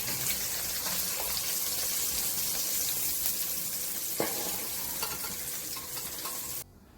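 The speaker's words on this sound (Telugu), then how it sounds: "కొద్దిగా ఉప్పు వేసుకొని 5 నిమిషాల పాటు మీడియం ఫ్లేమ్లో దోరగా బెండకాయ ముక్కలను వేయించుకోవాలి." Okra pieces frying in a pan over a medium flame, salted, make a steady dense sizzle with faint scraping stir sounds. It runs close and continuous, then cuts off abruptly near the end.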